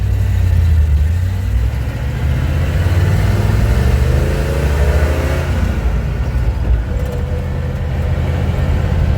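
The engine of a Chevrolet K5 Blazer heading down a hill, a loud, close, steady low rumble inside the cab with slight changes in revs partway through, heard alone without talk.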